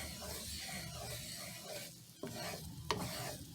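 Cajun shrimp pasta with Parmesan cheese is stirred in a pan, a soft close sizzle under wet scraping and mixing, with a couple of sharper clicks from the utensil, quiet and without talking.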